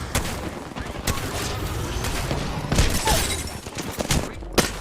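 Rapid gunfire crackles throughout a fight in the battle-royale shooter Apex Legends. It is a steady barrage of sharp shots with a few heavier thumps, loud and close, with no talk.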